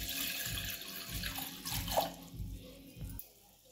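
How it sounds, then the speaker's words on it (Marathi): Water pours steadily into a pot on a gas stove for milky tea, a continuous faint gushing stream that cuts off near the end, with no talking. "आता यात पाणी ओतूया।"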